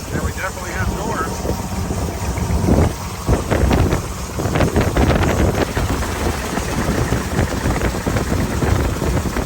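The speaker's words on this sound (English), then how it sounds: "It's a bit windy" Gusts of wind buffet the microphone with a rumbling roar throughout, while voices talk faintly underneath.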